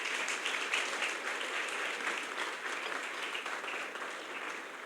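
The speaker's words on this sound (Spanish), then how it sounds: "démosle una vez más un aplauso a estos bendecidos papás" A church congregation gives sustained applause for parents, a dense wash of many hands clapping at moderate distance, fairly steady and slowly tapering toward the end.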